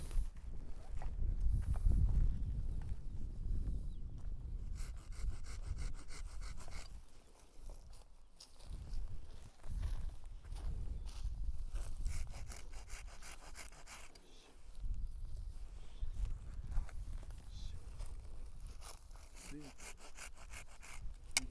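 A hand saw cuts through walnut scion wood with steady back-and-forth rasping strokes, close up, pausing briefly a couple of times before resuming.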